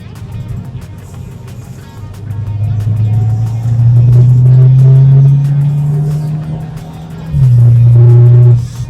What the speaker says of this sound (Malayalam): വെളിയിൽ നിന്ന് നമുക്ക് എക്സോസ്റ്റ് നോട്ടും കൂടി അനുഭവിക്കാൻ കഴിയേണ്ടതാണ്